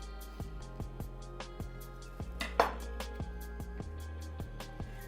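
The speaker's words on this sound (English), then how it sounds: "So I have an avocado here in front of me. Cut it in half." An avocado cut in half with a knife on a board, a series of soft, evenly spaced taps and light thuds, close and quiet, with one brief sharper scrape partway through.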